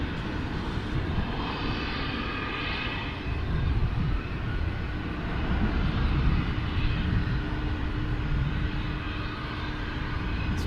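Boeing 787 Dreamliner at DFW International Airport, a broad low jet rumble swelling and fading at a distance, continuous over about ten seconds.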